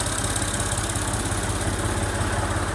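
A Massey Ferguson 135 tractor engine idles steadily and up close, with a continuous low, even chug running loud from start to finish.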